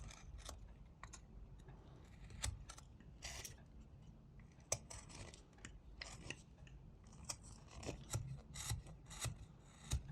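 A knife whittles a small wooden sheep figure, extending a side groove under the belly with short, dry scraping cuts in an irregular rhythm, close and fairly quiet, with no talking.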